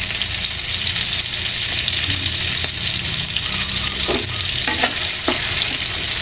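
Food sizzles steadily in hot oil in a frying pan, a loud, constant crackling hiss close up, with a few knocks of a utensil against the pan toward the end.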